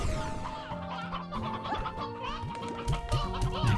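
Roosters and chickens cluck on a ranch in the video game Slime Rancher 2, with several overlapping bird calls over a steady musical game background and soft bursts near the end.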